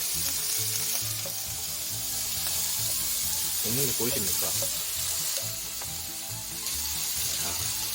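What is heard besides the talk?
Hokkaido butter sizzling in a frying pan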